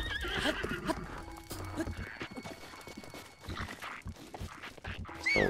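A horse in Zelda: Breath of the Wild neighs and whinnies loudly at the start and end, with clip-clopping hooves and footsteps between, while a person talks over the game sounds.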